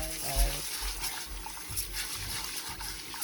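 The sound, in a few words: rinsing rice in water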